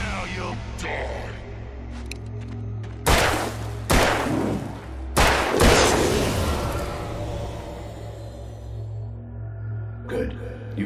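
Several loud gunshots ring out in a dramatized nightmare scene, sharp booming reports spaced a second or so apart over a low hum, with a voice speaking around them.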